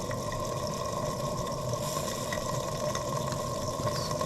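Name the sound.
German showman's steam engine running, throttle valve closed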